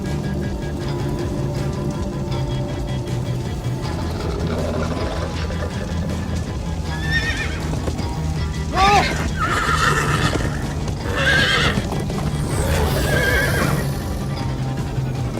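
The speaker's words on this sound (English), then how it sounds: "Slow down, horse!" Loud horse whinnies from a Minecraft: Story Mode cutscene ring out repeatedly over a busy, rumbling background of motion and hoofbeats, with voices shouting amid the clatter.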